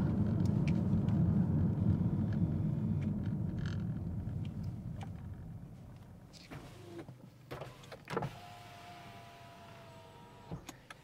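A car rolls along a road with a steady low engine and tire rumble that fades over several seconds, followed by a few scattered clicks and bumps in a quieter stretch.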